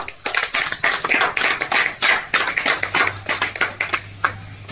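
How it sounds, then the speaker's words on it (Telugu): Close, loud clapping from an audience at a charity trust event, with sharp distinct strikes in quick uneven bursts and a low hum entering partway through. "చప్పట్లు కొట్టవలసిందిగా మనవి."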